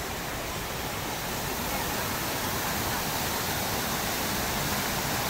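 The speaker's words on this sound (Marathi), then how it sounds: "तुंगारेश्वर मंदिराच्या मागच्या साईडून ही नदी वाहते" A river flows behind Tungareshwar temple in Vasai amid green surroundings, a steady, dense rushing of water like a small waterfall, loud and unbroken throughout.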